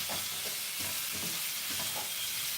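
Cabbage and vegetables are stir-fried for fried rice, a dense steady sizzle with soft rhythmic stirring strokes, close and continuous across the short stretch.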